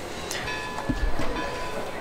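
A train rumbles in Railroad Tycoon 3, running a Central Pacific line through the Rockies. It is a faint, brief low rolling sound with a couple of soft clunks, heard alone in the game.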